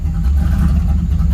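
A car engine idles after running for a long time, giving a loud, low, steady rumble close by with a faint whir and light clatter and no break.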